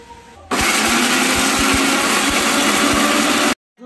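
An electric blender grinds cherries in a loud, continuous whirring burst of about three seconds with a few rhythmic knocks. The motor starts abruptly and stops abruptly, and no one speaks.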